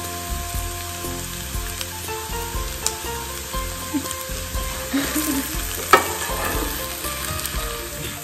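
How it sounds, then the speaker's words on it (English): Bottle gourd fries in ghee with a constant sizzle while a wooden spoon stirs and scrapes it in a pan, giving scattered knocks and one sharper clatter partway through. "the bottle gourd now has been fried up in this ghee"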